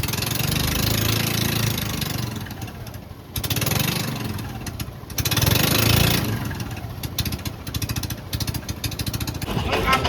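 A boat's engine runs on the Yamuna river near Mathura, a steady close drone that rises and dips slightly in loudness throughout.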